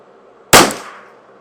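A single sharp crack from a Custom Shop Ruger 10/22 rifle firing Eley Contact rounds, loud and close, with a short ringing decay after the shot.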